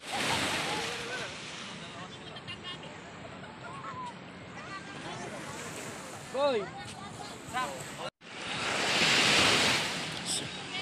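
Sea waves washing onto a beach at Baler, Aurora, a steady surf wash with wind buffeting the microphone and a louder surge near the end, while people talk over it.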